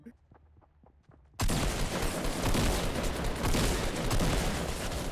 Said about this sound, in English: That was 4 fully fledged shots to your face!